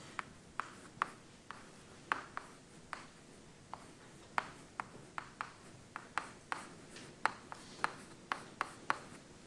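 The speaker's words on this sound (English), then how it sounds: "let me write that out" Chalk tapping and scraping on a board during a math lecture, a run of sharp, irregular strokes and taps close by in a quiet room.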